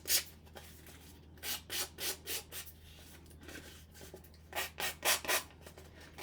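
Cardstock edge rubbed firmly across a surface to distress it for a scrapbooking project, making close, dry scraping strokes in two quick rhythmic bursts separated by a pause.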